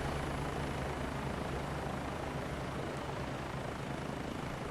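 A Bo 105 helicopter idles on a helipad, its engine and rotor making a loud, steady, broadband roar heard from close by without pause.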